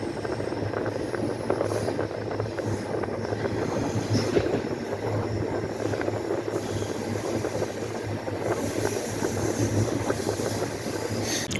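An express train rumbles steadily along the tracks, with rhythmic wheel clatter and occasional metallic squeals, heard from inside the carriage, in India.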